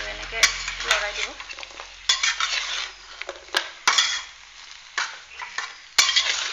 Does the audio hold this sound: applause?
no